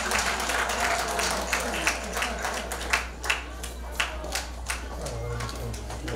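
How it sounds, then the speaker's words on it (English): A studio audience claps for a television show's hair team, a steady wash of applause with sharper individual claps popping out near the front, under a faint background hum. "Please give them a warm round of applause."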